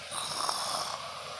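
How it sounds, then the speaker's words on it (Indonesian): A cartoon cat character named Catnap snores in one steady, close, breathy rasp that runs the whole short moment with no talk over it. "padahal dia cuma tidur, malah ngorok lagi"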